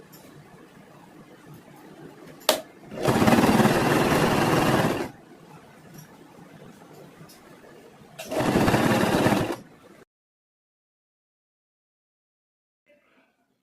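A sewing machine stitches the folded neck piece of a girls' school uniform in two loud bursts of steady motor whir, about two seconds each and separated by quieter pauses, with silence at the end.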